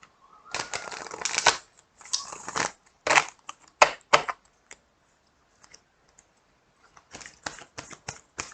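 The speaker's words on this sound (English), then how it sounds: "I'm gonna shuffle these one more time." A deck of tarot cards is shuffled by hand close up, with crisp papery bursts of riffling and snapping in uneven clusters separated by short quiet pauses, alone without speech.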